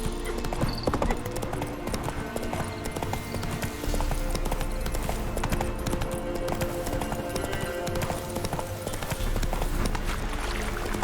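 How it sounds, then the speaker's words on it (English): Hooves of the horse Roach clip-clop in a steady galloping rhythm in The Witcher 3 video game, continuous and close, with a faint whinny and light game ambience around them. "Whoa there, Roach."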